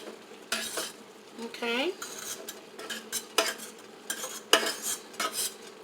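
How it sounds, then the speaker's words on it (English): Carrots, onions and green onions tumble into a pot for chicken pelau and get stirred, with a run of close scraping, clinking spoon-on-pot strokes and shuffling bursts. A voice briefly speaks once. "all the veggies that I have in here, I'll also add it to the pot"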